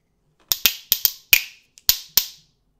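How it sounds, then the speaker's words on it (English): Seven sharp, bright clacks of spoons played as percussion, tapped in a quick syncopated rhythm with brief pauses, close and crisp with no voices. "Ta, ta, ta, sh, on the spoons."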